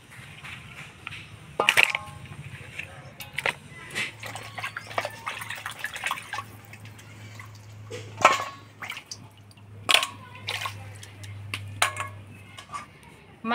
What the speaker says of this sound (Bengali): মাছের মুড়াটা কাইটে পরিষ্কার করে ধুয়ে নিলাম